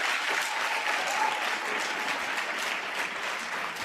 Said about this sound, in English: Ladies and gentlemen, give us a round of applause.